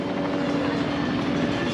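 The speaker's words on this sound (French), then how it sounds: "c'est qu'il y a énormément de tours en hélicoptère." A helicopter taking off nearby on a sightseeing tour in Medellin, Colombia, gives a steady rotor chop with a sustained engine whine, loud and continuous with no talk.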